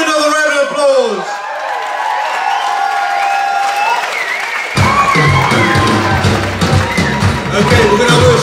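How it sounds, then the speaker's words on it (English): Festival audience applauding after a spring festival performance, with clapping and some cheering that swell midway through and continue under a talking voice. "Give him another round of applause."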